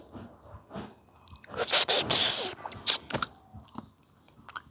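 A rasgulla sweet is eaten up close, with moist biting and chewing sounds in a short burst, then softer mouth noises trailing off.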